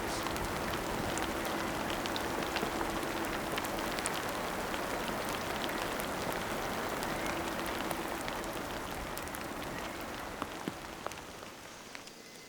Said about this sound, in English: The rain softens the soil and revives the land.